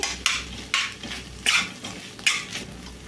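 A spoon scrapes through frying beans in a pan in about four distinct strokes, each a close, bright scraping rasp over a faint sizzle.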